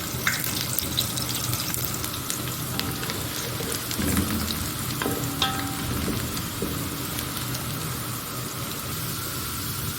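Sliced onions fry in oil for Hyderabadi chicken dum biryani, making a dense, constant crackling sizzle close up. A few scattered pops and light clicks come through across ten seconds, with no voices.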